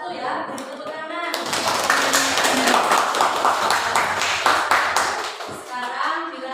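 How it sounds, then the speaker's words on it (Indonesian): Classroom of students applauding a group after its presentation, a dense burst of many hands clapping for several seconds, close and fairly loud, with a teacher's voice before and after. "Beri tepuk tangan."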